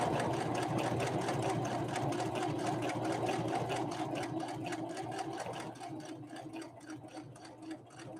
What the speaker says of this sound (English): A super wide zigzag on some pretty thick leather.